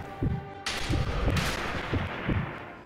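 Sniper rifle shots in the Sniper Elite V2 war game, a series of heavy low thuds at a roughly regular pace with one loud crack-like burst, under a steady game background.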